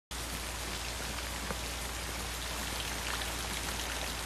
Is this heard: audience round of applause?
no